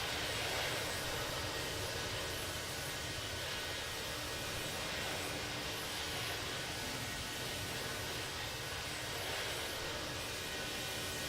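Boeing 737 MAX jet engines in Infinite Flight roar steadily through a go-around, a dense, unbroken broadband rumble and hiss that holds loud and even throughout, with no voices.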